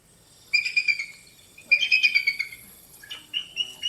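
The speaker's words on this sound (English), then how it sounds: "the bald eagle actually sounds like this" A bald eagle gives a thin, high chirping call in three short bursts of rapid piping notes, fairly close and clear over a quiet background.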